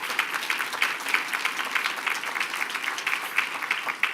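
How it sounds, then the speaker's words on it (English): An audience applauding steadily for several seconds, a dense patter of many hands clapping at an even level in a meeting hall, with no voices over it. "please join me in giving them a round of applause for their work"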